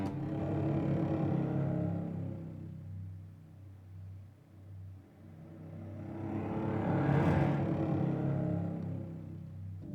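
Spitfire LCO Strings slackened longs patch: low, droning string texture that swells, dips and swells again like slow breathing, with a brighter, noisier rise in the second half.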